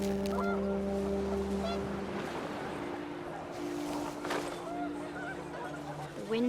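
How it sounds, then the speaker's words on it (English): Panicked geese honking in the game What Remains of Edith Finch, scattered calls over windy outdoor ambience with low droning tones, and a brief cluster of honks rising near the end. "The wind picked up and panicked geese appeared and quickly went."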